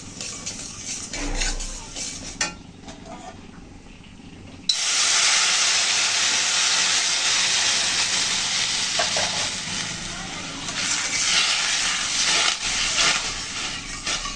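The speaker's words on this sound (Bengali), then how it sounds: "এখন আমি জল দিয়ে দিচ্ছি" Water is poured into a pan of browned fried mung dal, setting off a sudden loud, sustained sizzle and hiss that follows a quieter stretch of faint stirring and utensil clinks.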